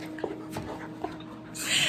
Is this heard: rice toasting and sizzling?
no